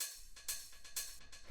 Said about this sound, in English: So what I've done here is basically I have this open hi-hat,